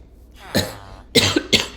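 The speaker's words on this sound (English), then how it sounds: "I've still got coughing" A person with a lingering cough from nasal drip coughs three times in quick succession, close and fairly loud, with a throat-clearing edge and short pauses between bursts.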